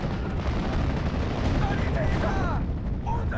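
Steel Division: Normandy 44 battle gunfire, a dense continuous rumble of artillery and rifle fire with booming blasts and crackling shots, steady and loud throughout.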